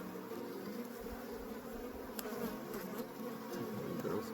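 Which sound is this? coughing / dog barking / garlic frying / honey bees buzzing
honey bees buzzing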